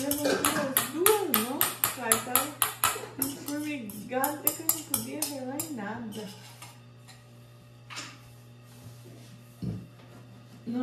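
Spoons and dishes clinking in a home kitchen, a rapid run of bright metallic taps and clatters for several seconds, then sparser clinks, with a person talking nearby.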